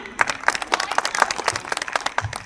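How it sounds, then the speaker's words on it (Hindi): An audience claps for the children at a school annual function, a steady run of sharp, close handclaps with a few distinct beats standing out and little talk beneath it. "तो तालियों की आवाज रुकनी नहीं चाहिए इन प्यारे प्यारे बच्चों के लिए।"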